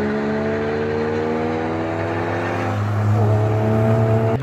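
A car runs on the Nürburgring circuit with a steady, fairly loud engine drone that swells slightly as it passes near the end, heard without voices.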